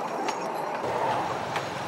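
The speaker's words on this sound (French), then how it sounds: "Les trains qu'elles voient passer n'ont rien de banal, ce sont les Bamboo Trains." A bamboo train rolls along an abandoned railway line near Battambang, Cambodia, giving a steady broadband rumble with faint clicks from the rails, heard alone at a constant level.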